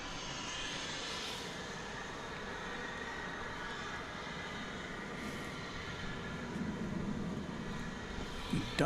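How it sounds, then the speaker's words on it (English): Delta 1071 airliner departing DFW Airport at night, a steady broadband jet engine roar that holds constant for the whole stretch, heard at a distance with no talk over it. "Good departure, Delta 1071."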